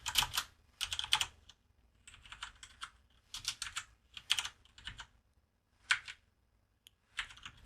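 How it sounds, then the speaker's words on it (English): Fingers type on a computer keyboard in irregular bursts of quick, crisp key clicks separated by short pauses, fairly close and alone with no talking. "we just need to type primary key"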